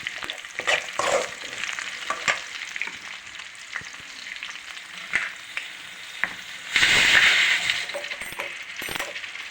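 Mustard seeds, cumin, onion and mashed boiled potato frying in oil, a crackling sizzle broken by spatula scrapes and clinks against the pan, close and busy, with a louder hissing surge late on and no speech.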